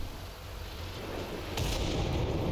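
Gunfire from a first-person shooter video game, a rumbling distant burst that swells into a louder, sharper volley partway through, with no voices over it.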